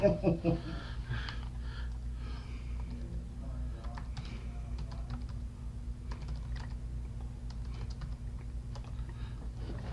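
Keystrokes on a wireless computer keyboard with fresh batteries, a steady run of quiet clicks and taps through the whole stretch over a low constant hum, with a louder burst at the start.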